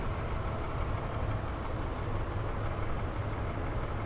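The 3.5-liter V6 of a 2010 Lexus RX 350 SUV idles smoothly and evenly, a close, continuous low hum with no talking.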